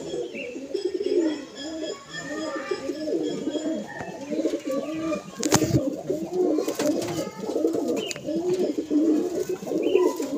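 A female pigeon at a home loft coos over and over in low, throaty, rolling phrases, close and moderately loud, with a few sharp knocks and faint background sounds mixed in.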